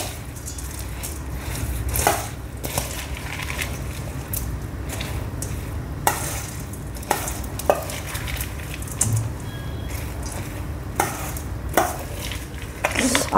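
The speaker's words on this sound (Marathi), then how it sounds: "आपण सगळे जिन्नस नीट मिक्स करून घेऊया." Diet bhel ingredients with spicy and sweet-sour chutneys and sev are tossed together in a bowl, making soft continuous rustling and crunchy stirring with occasional light clinks of a spoon, close and moderately loud.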